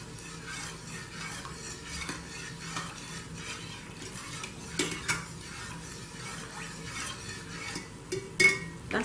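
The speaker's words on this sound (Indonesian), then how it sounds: "Aduk hingga tercampur rata." A spoon stirs agar-agar and pandan leaves for a palm-sugar coconut pudding: soft, steady scraping and swishing against a pot, with a few louder clinks toward the end and no voices.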